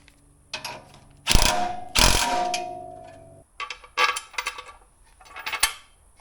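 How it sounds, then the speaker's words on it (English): A ratchet with a 13mm socket tightens bolts on a 4Runner front bumper, giving close metallic ratcheting clicks in a few separate bursts with gaps between them. "Tighten these down with a 5mm Allen and a 13mm socket."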